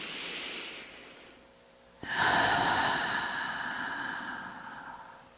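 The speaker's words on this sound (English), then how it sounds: "And another breath in." A deep meditative breath, starting with a soft airy inhale, a brief quiet pause, then a fuller, louder breath of steady rushing air that slowly fades, close and alone with no talking.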